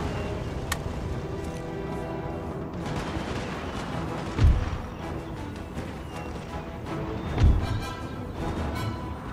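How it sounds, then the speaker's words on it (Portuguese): Two heavy, distant cannon booms a few seconds apart over a steady rumbling soundscape in the video game Total War: Napoleon, Spain campaign. "Tem um outro canhão ali em cima."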